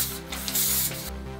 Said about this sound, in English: I'm first gonna put some spray paint on for camouflage.